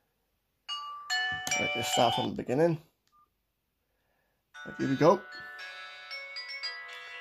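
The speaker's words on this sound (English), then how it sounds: "Very much the same ringtones as it was on the T2000, I believe." Melodic electronic ringtones play on a T3000 Chinese mobile phone, with two bright tonal sequences separated by a pause. Someone speaks briefly over the first one.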